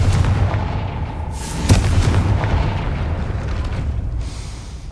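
A fire-spell explosion in Hogwarts Legacy bursts with a sharp crack followed by a deep rumbling boom that rolls and fades over several seconds, loud and close.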